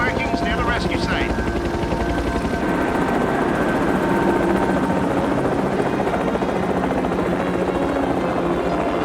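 A helicopter flies near a rescue site at night, its steady rotor thrum loud and close throughout, with voices speaking over it.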